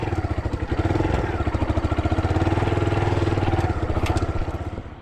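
A kulong-kulong motorized cart's small engine chugs in a fast, steady clatter close by, running alone without talk and fading slightly at the end.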